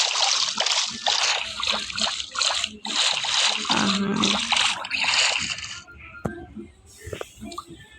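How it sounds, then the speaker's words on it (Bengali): A Minecraft dive into water gives a rush of splashing and sloshing that runs loud for several seconds, then fades to scattered drips and trickles. A faint voice shows up briefly. "তো আমি বেশি কথা না বলে লাগিয়ে দিলাম ডুব।"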